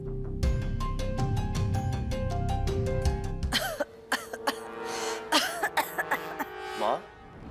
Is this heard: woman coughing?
yes